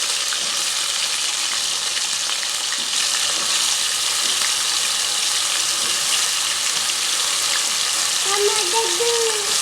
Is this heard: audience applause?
no